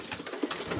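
Giribaz pigeons give a short burst of soft, close cooing, a few quick throaty notes with no one speaking.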